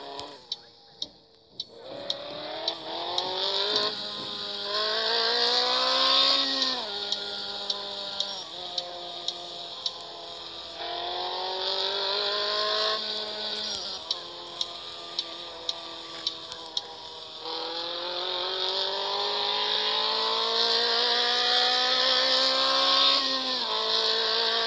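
A car in the driving game Real Driving 3D runs through several gears with a rising synthetic engine whine. A steady high electronic tone sits above it, and sharp ticks recur throughout.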